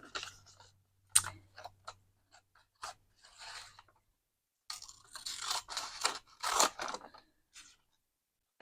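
Paper snipped with scissors for a botanical garden window craft, heard as a series of crisp, close cuts and crunches in short irregular bursts, with quiet pauses between them and no talk.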